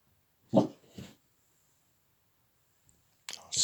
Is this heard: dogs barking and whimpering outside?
yes